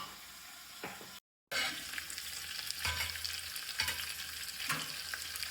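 A drumstick pod curry simmers in a covered pan on a low flame, giving a soft, steady sizzling with a few faint clinks and scrapes over a brief dropout, quiet and without talk.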